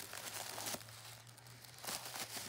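A small package being unwrapped gives soft crinkling and rustling of paper or tissue in a few short bursts, close and fairly quiet, with no talking.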